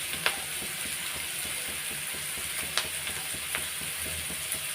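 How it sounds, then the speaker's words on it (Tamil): Onions frying in a pan while being stirred until golden brown, making a soft steady sizzle with light scraping taps and a few sharper clinks, faint and close, with no talking. "கொஞ்சம் வெங்காயம் நல்லா ப்ரௌனிஷாக ஒரு கோல்டன் ப்ரௌனில் வர வரல நம்ம இதை வதக்கிக்கலாம்."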